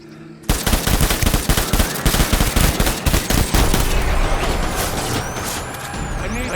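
Rapid bursts of automatic gunfire in the Death Stranding video game crackle loudly and densely, sharp repeated shots overlapping with a harsh metallic edge as the volley continues.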